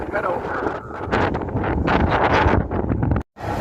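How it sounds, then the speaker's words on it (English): Strong gusty wind buffeting the microphone outdoors in a Japanese city square, a roaring rumble with rustling, cutting out briefly near the end. "I know it's really windy right now"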